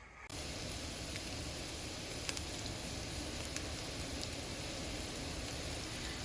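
Food sizzling steadily in a hot pan for a Great Depression-style poor man's meal, a dense hissing crackle with occasional sharp pops, constant and fairly faint after starting abruptly.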